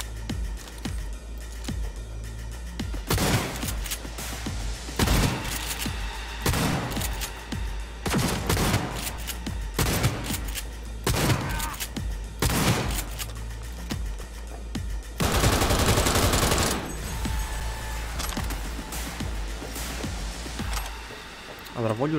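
Cyberpunk 2077 gunfight with repeated bursts of automatic weapon fire in clustered volleys, loud and close, with brief pauses between bursts and a sustained stretch of firing near the end; someone talks over parts of it.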